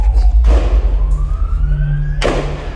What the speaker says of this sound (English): You heard those gunshots?